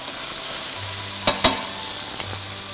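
Meat browning in a hot frying pan hisses in a constant close sizzle, with two quick utensil clacks midway and a softer tap near the end.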